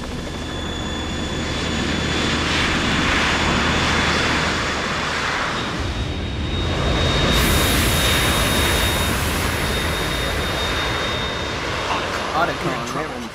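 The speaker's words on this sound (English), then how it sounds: "It's the Harrier." A Harrier jet in Metal Gear Solid 2 gives off a steady, loud roar of jet engine that continues throughout, shifting in tone midway, with game sound effects layered on top.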